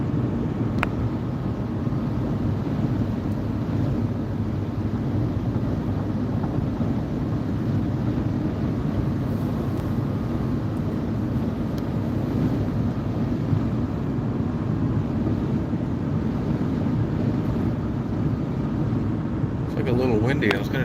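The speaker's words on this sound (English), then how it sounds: "It's like a little windy." Steady wind blows across a microphone outdoors near a road, a continuous low rumbling roar of gusts with no breaks, while someone talks over it.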